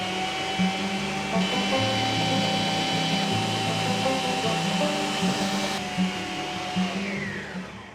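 An electric mixer whirs steadily while beating meringue for a lemon pie, a loud continuous motor hum with a slight pitch shift partway through and no talking.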